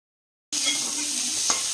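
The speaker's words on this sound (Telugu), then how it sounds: "అదే కడాయిలో 2 స్పూన్స్ ఆయిల్ వేసుకొని 2 పచ్చిమిర్చి, కట్ చేసినటువంటి హాఫ్ ఉల్లిపాయ కొంచెం వేగాక" Green chillies and sliced onion sizzle in hot oil in a wok, a steady close frying hiss that starts abruptly and runs continuously, with a faint stir around the middle.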